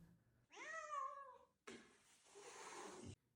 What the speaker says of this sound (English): the cat is like talking to the chiropractor